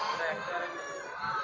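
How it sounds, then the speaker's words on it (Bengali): Chickens and ducks cluck and call at a poultry shop inside a Chinese market in Zhenjiang, a busy layer of bird sounds mixed with market chatter and nearby voices. "তো এটাই হাঁস মুরগির দোকান এখানে।"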